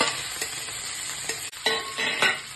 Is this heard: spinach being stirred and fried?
yes